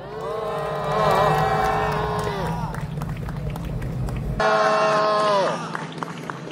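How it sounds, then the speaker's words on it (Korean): Rally crowd cheering and clapping as a speaker is welcomed to the stage, loud whoops and shouts over steady applause, with a voice over the sound system cutting in partway through. "큰 박수 부탁드립니다."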